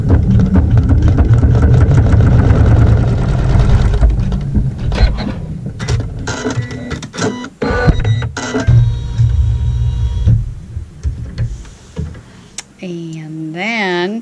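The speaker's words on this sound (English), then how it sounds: "we're going to sew a tack down stitch" A sewing machine runs steadily while stitching a tack-down seam on a quilt block, a close, even mechanical whir that breaks into stops and starts toward the end, with someone talking over it.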